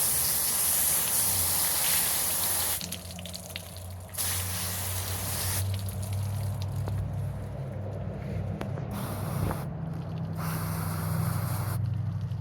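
Running water rinses a freshly cleaned lingcod, a close, steady spray and gush that cuts off and restarts in several bursts, with small splashes and handling noises between.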